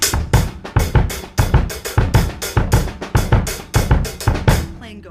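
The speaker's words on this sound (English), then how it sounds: "I'm going to fill in all of the weak beats on the snare, and I'm going to keep those accents on the hi-hat" Drum kit groove with accented hi-hat strokes and soft snare ghost notes filling the weak beats, a steady, loud, close rhythmic pattern played alone with no talking.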